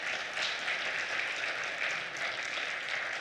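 Steady applause from a church congregation during a livestreamed service, dense and even throughout with no pauses, moderately loud and heard on its own with no talking over it.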